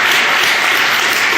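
Audience at a city council meeting applauding, dense and loud continuous clapping filling the room for the whole moment, with no voices over it.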